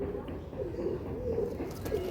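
Pigeons coo in a loft of bumper-quality birds for sale, a low continuous murmur of overlapping calls at moderate distance, with faint talk mixed in.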